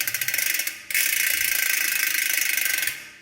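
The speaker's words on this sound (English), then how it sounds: "Italian, with an extremely loud free hub" Rear freehub of an Enve SES 4.5 clincher bicycle wheel clicks in a very loud, fast ratcheting buzz, briefly pausing then running steadily close up, with no talking.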